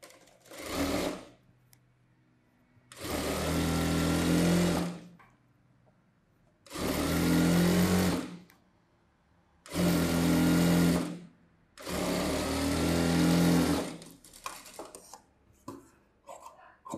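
Stitching the edge of a boat-neck saree blouse, a sewing machine runs in five loud, close bursts of rapid whirring, each lasting one to two seconds, separated by quiet pauses, then softer handling clicks at the end.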